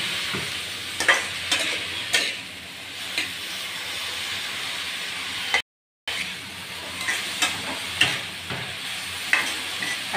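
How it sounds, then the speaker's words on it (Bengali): Eggplant frying in a pan over raised heat, a continuous hissing sizzle punctuated by regular spatula scrapes and stirs, close by, with a brief dropout midway and no speech. "বেগুনটাকে একটু ভাজবো,"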